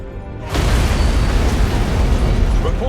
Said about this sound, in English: It must have been one of their boarding parties. I'd guess an antimatter charge.